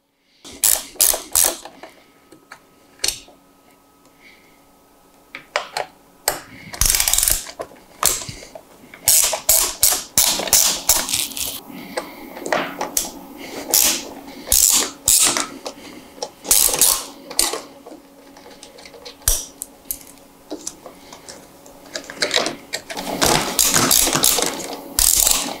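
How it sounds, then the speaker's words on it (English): A ratchet fitted with a 5/32 Allen bit backs screws out of the radio caddy on a 2014-or-later Harley-Davidson, giving repeated bursts of close, sharp clicking with short pauses between them. "We're gonna use a 5/32 Allen with a ratchet."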